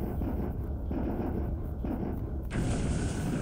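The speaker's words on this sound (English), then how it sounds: "torpedo hit but no explosion, but now torpedo hit" A torpedo hit explosion in the War in the Pacific naval strategy game sounds as a loud, dense rumbling boom that swells into a sustained roar and ends with a sharp burst.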